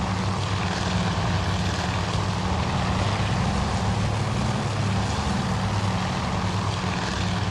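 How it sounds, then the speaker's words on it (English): Small spotting plane from Task Force Admiral, its propeller engine droning steadily and loudly without pause, a dense unbroken roar with no talk. "He's chasing down the little plane."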